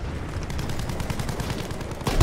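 Rapid gunfire in Battlefield V, a dense stream of close shots and bursts pounding steadily, with a louder burst at the end.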